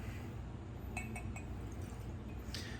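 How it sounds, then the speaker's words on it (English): Weller Special Reserve whiskey is poured into a glass, with a few light glass clinks and a faint liquid trickle over a steady low background hum. "let's pour a glass."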